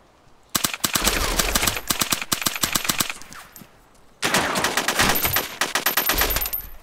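Gunfire in the survival game DayZ: two long, loud bursts of rapid automatic shots, close and harsh, separated by a short pause of near quiet.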